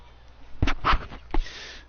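A man coughs a few times in short, harsh bursts close to the microphone after smoking, with a slight pause before the last cough.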